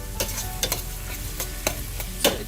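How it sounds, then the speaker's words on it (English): Onions browning in a pan for a spicy pork and beef meatball curry, with a steady low sizzle and several sharp stirring scrapes, close and moderately loud, no talking. "we're going to brown our onions"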